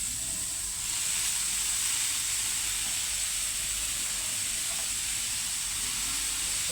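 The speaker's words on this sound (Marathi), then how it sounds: "भाकरी टाकूया आपण." A steady soft hiss and sizzle of millet bhakri cooking on a hot pan on a low gas flame, continuous and close, with no talking.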